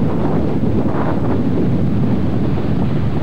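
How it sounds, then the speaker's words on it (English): Strong wind buffets the microphone on an island shoreline with breaking waves offshore, a loud continuous rumbling roar with no pause and no voices. "Quite windy."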